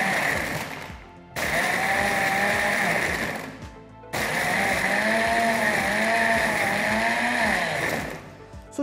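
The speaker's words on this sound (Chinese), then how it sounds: "一般来说我们的冰沙机都会有一个流程，就是顺转" A commercial smoothie blender, used for fruit and ice drinks in a beverage shop, pulses at full power in three loud whirring bursts separated by brief pauses, with the motor pitch wavering as the ice churns.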